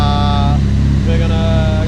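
A big-turbo Nissan S14 with an SR20 engine warms up at a steady idle, a loud continuous close drone with steady tonal hum throughout and no speech.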